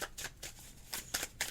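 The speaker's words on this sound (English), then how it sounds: "me shuffling the cards blindly" Tarot cards being shuffled by hand give several quick, close papery riffling bursts in an irregular rhythm, soft and faint, with no talking.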